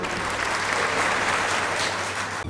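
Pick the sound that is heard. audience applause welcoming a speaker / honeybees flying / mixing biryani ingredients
audience applause welcoming a speaker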